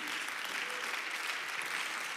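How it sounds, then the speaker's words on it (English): A church congregation claps together in dense, sustained applause, a steady even wash of hand claps at moderate loudness with no pauses over a couple of seconds. "Let's give them a hand clap of praise right as you're being seated."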